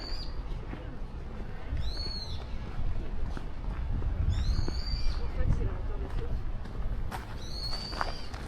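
Three high, descending whistled calls, like a bird of prey, ring out at intervals over steady crowd murmur and footsteps in a castle courtyard near food trucks and a temple at Osaka Castle in Japan.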